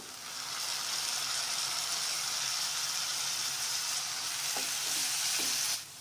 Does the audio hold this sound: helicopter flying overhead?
no